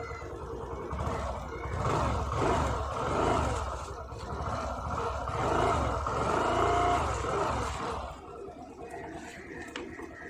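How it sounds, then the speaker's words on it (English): Exhaust note of a Suzuki Avenis 125 scooter running close by, a continuous throbbing idle with gentle rises and falls in level before easing off near the end. "Let's listen the exhaust note."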